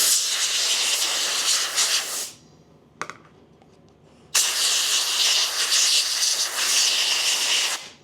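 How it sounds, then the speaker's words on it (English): Compressed air blows dust from a CNC-carved gingerbread ornament: two long, loud, close hissing blasts separated by a quiet pause with a faint click. "Take a little compressed air."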